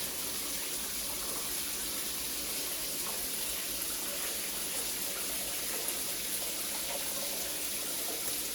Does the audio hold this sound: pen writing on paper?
no